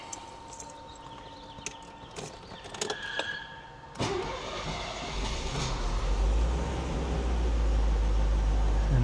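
A 1979 Mercedes-Benz 450SL is cranked: a few clicks and a starter whirr, then the engine catches and settles into a steady, low, rising idle rumble close by.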